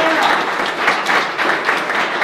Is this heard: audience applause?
yes